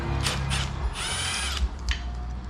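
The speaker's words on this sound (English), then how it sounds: "We're just going to unbolt the bracket" A power tool whirs in short bursts as it unbolts a bracket on a TH350 automatic transmission, rising and falling over about two seconds and close to the listener.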